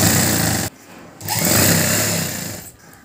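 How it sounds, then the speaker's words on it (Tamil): A sewing machine stitches the collar of a school uniform coat in short close bursts, stopping briefly before whirring again, loud and near. "உள் பக்கமாக நம்ம தச்சாச்சு."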